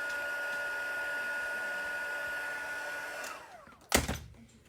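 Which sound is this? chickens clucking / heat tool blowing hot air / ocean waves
heat tool blowing hot air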